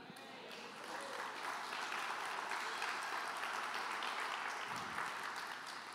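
A church congregation at a Sunday family service claps together, a steady, fairly distant wave of applause swelling after the first second and holding evenly, with faint voices underneath.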